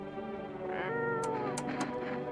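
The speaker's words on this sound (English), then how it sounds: "Pet the cat. Reach out and pet the cat." A cat in a video game lets out a drawn-out, wavering meow over a quiet background hum, with a few faint clicks near the end.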